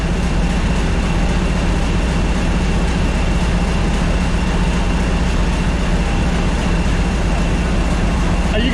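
A Hoover diesel locomotive rumbles steadily at a heritage railway diesel gala, a constant heavy engine drone with people talking over it.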